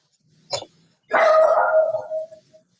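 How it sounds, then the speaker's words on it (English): A dog in the background gives a short yip followed by a longer drawn-out bark that tapers into a whine, fairly clear against an otherwise quiet room. "That's my dog in the background."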